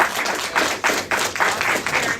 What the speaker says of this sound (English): Give yourselves a round of applause for being a great audience.